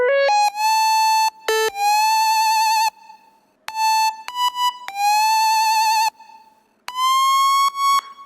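Synth lead line with strong pitch bends and fast vibrato, bright harmonic tones sliding into held notes in several loud phrases separated by short gaps, no voices.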